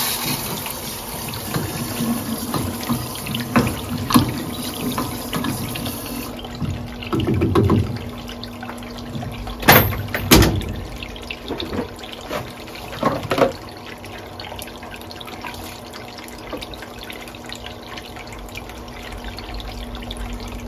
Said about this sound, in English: Put a little more fresh water in here.